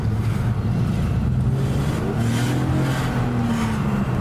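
A car pulls out and accelerates nearby, its engine note rising steadily over a continuous road rumble, loud and without talk.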